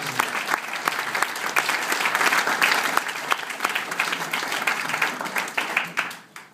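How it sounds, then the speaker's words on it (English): An audience at a workplace equality presentation applauds, a dense, steady round of clapping from a sizable crowd that tapers off at the end. "That in itself deserves a round of applause."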